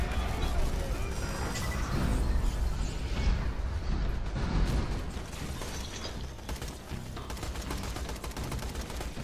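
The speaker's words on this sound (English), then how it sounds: "I respawned and they're already shooting at me" Rapid gunfire from enemies shooting at the player in Borderlands 2, bursts of machine-gun-like rattling and mechanical clatter running continuously and loud throughout, with a dense mix of game sounds.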